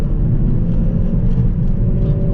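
A Hyundai i30N hot hatch driven on the road, heard from inside as a steady, loud low engine and road rumble with a constant drone and no distinct gear changes.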